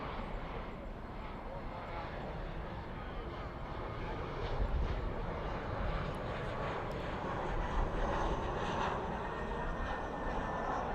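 A fixed-wing airliner landing at night at Dallas/Fort Worth airport, a steady broad engine roar that swells slightly midway and holds throughout, moderately distant, with no talk over it.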